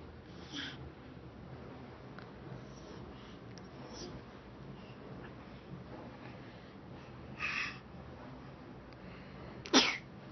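A baby of about nine months sneezes once, a sharp, close little burst near the end, after a quieter snort-like breath amid soft room noise.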